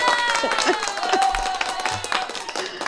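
A live audience claps and cheers for a guest at a conversation show, with scattered sharp hand claps and crowd noise running under a voice that speaks and calls out over them.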